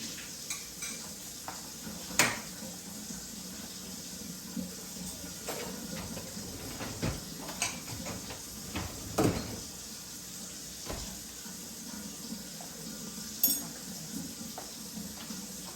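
Food cooks quietly in a pan with a soft, continuous sizzle, punctuated by scattered clinks of utensils and cookware.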